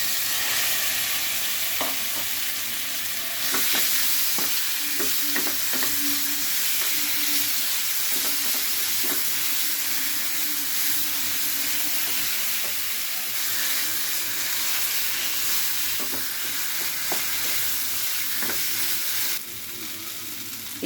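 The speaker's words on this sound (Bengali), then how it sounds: "আমরা আলু সিমটা যে মেখেছিলাম সেটা এখন তেলে দিয়ে দিব।" Mashed potato and flat bean mix frying in hot mustard oil, a steady close sizzle with intermittent stirring clicks and scrapes throughout, no voices.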